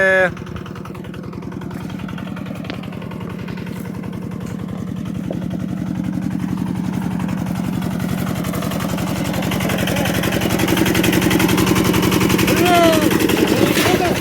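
The diesel engine of a T-4 crawler tractor runs during a potato harvest, a loud steady rhythmic chugging that swells slightly louder over time, heard close and alone.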